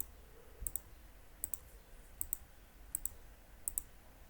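A computer mouse button is clicked repeatedly while shaping a vase design in a 3D modeling program, giving five evenly spaced pairs of crisp, faint double clicks over quiet room hiss.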